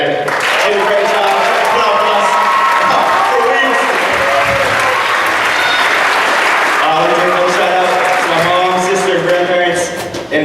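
Loud, sustained audience applause fills the room nearly without pause, with a voice talking over the clapping throughout.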